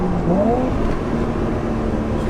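Nissan S13 with a 1JZ engine and M4 DCT gearbox, loud continuous engine note close by, revving up through the gears with a rising pitch that steps between shifts and no talk over it.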